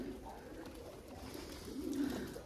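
Pigeons coo on a rooftop, a steady low murmur of several birds close by, swelling slightly louder toward the end with no talk over it.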